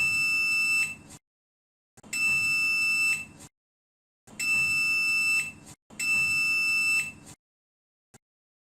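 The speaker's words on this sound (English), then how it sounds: "Now I hear the sound of the buzzer." A digital clamp meter's continuity buzzer sounds a steady high-pitched electronic tone in four bursts of about a second each, separated by short silences, with a brief click near the end.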